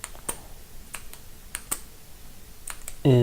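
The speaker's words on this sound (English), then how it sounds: "Very satisfying, smooth click." The click mechanism of a Valtcan Paladin titanium pen gives a series of sharp, close, fairly faint clicks spread irregularly over a few seconds. A voice starts right at the end.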